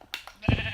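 Minecraft sheep bleating in a video game, a couple of quick soft blips followed by one clear nasal bleat, close and fairly loud, with no talking.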